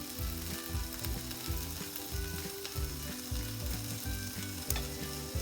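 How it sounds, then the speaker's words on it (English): Bacon pancakes fry in a pan with a steady, close sizzle and crackle, joined by a low rhythmic bubbling pulse that repeats under the hiss throughout. "Let's watch them fry up."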